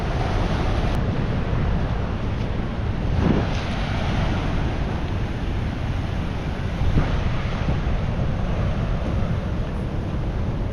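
Water surges steadily from the Ord River outlet valves in a broad, continuous roar that stays loud and even throughout, with wind buffeting the microphone and no voices.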